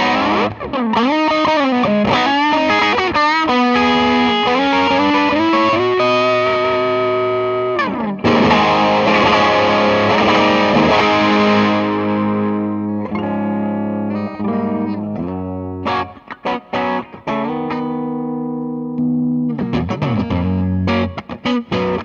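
An electric guitar plays through an Ashdown AGM-5C 5-watt combo amp with gain at one o'clock, flat EQ and a touch of reverb: sustained overdriven chords and single-note lines ring out loud and alone, with a few choppy stabs toward the end.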